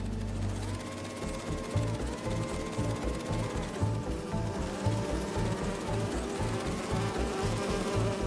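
Steady droning buzz of bees in the video game Marvel's Spider-Man 2, like a swarm, running continuously with a low pulsing rhythm underneath and no voices.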